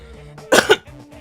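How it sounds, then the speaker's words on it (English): A single short cough in a quiet room, a brief two-part burst close to the listener with near silence before and after. "I coughed."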